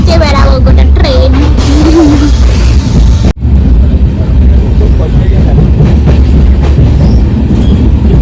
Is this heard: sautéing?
no